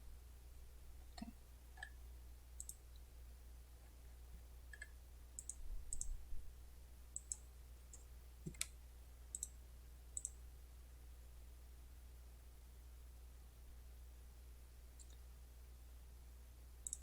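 Sparse, light mouse clicks at a computer while Photoshop installs, a handful of separate taps spread over a quiet, steady background hum with no talking.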